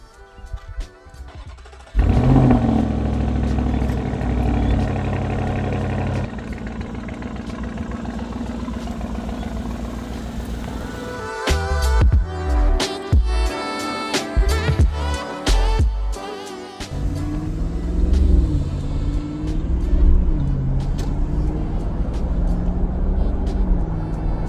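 A tuned Audi SQ7 running a Stage 1 EA825 tune pulls away from a stop, its engine revving up strongly through gear changes, loud and close, with the exhaust note rising and falling as it accelerates.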